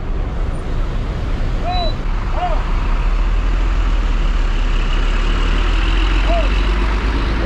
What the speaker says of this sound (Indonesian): Bus Sudiro Tunggajaya Holken berangkat.